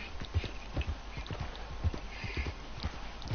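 Horse hooves clip-clop steadily in Red Dead Redemption 2, with a close, even gait of dull thuds over a continuous outdoor ambience.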